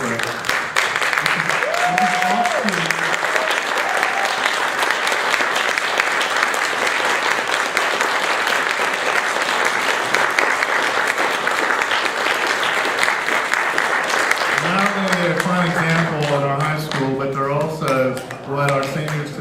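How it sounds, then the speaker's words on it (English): A school auditorium crowd gives a big, sustained round of applause for Navy JROTC cadets, loud and steady throughout, with a voice speaking briefly over it near the start and again toward the end. "give them a big round of applause"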